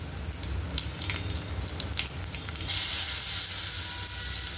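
Roasted onion hits hot oil in a chutney with red chili, giving a sudden loud, bright sizzle that jumps in partway through and keeps hissing steadily after some clattering of utensils.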